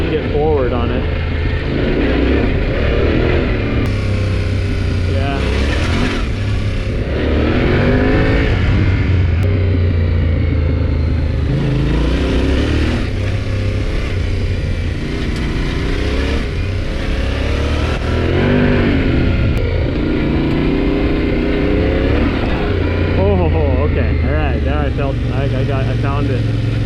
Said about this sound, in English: It's like a tall dirt bike.